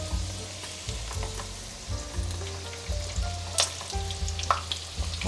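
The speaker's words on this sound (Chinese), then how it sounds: "先不要动，让它煎一煎。" Cabbage and potato pancakes sizzle and crackle steadily as they shallow-fry in oil in a pan, a close, continuous frying hiss with small pops and no talking.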